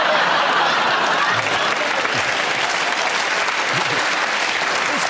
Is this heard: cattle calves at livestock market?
no